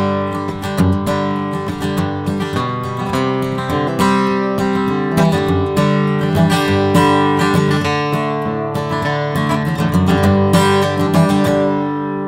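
Bluegrass rhythm guitar strummed hard and slow, full ringing chords struck in a steady, even pulse, loud and close with no voices.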